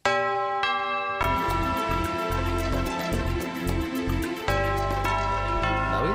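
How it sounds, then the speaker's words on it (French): The Europe 1 radio station chime, a bright melodic sequence of bell-like tones over a sustained musical bed, clear and prominent with distinct strikes throughout. "quand même un mot sur ce carillon d'Europe 1"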